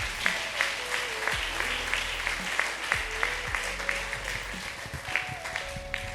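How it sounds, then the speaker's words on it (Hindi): A church congregation applauds steadily for several seconds, a dense, even wash of clapping with sustained organ or keyboard tones underneath. "क्या ताली नहीं बजाएंगे आप?"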